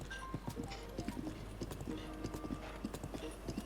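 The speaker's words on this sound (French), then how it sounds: "Même le bruit du cheval, du coup," Horse galloping in The Legend of Zelda: Breath of the Wild, a steady rhythm of soft, fairly faint hoofbeats repeating throughout under a low background hum.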